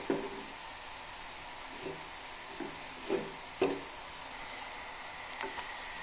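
Masala paste fries in a hot pan for masala rice and gets stirred, giving a soft, steady sizzle broken by a few light scraping knocks of the spoon against the pan.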